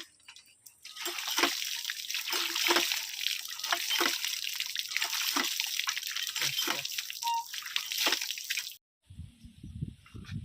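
A knife is rinsed under a running tap, giving a steady close rush of water with small splashes and drips that stops abruptly near the end.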